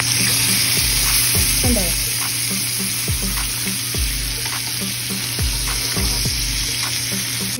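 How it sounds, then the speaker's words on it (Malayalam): King fish (neymeen) sizzles steadily in hot oil in a frying pan, with a few louder scrapes and clatters as the fish is turned over; a voice speaks briefly over the continuous frying. "അപ്പൊ ഈ സമയത്ത് നമുക്കൊന്ന് മീൻ മറക്കിട്ട് കൊടുക്കാം"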